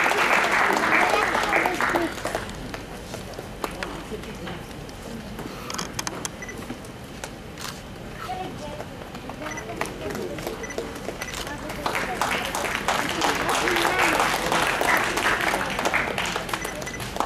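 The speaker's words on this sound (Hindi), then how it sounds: "एक बार जोरदार तालियों के साथ इस कार्यक्रम का हिस्सा बने।" An audience claps at a children's poetry gathering, loud and dense at the start, easing to scattered claps and murmuring in the middle, then swelling again into full applause.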